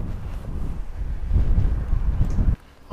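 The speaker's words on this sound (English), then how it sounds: "Windy, pretty windy today." Strong wind buffets the microphone outdoors by a fishing tackle shack on a clear blue-sky day, a steady low roaring rush that swells louder midway and then drops off abruptly near the end, with no talking.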